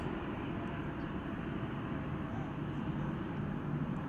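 An American Airlines jet airliner taking off from runway 18 left, a steady broad rumbling roar heard from a distance, constant and even throughout.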